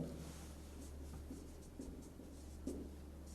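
A pen writes down a value on paper during a matrix maths lesson, making faint, soft scratching strokes in a quiet room with no talking.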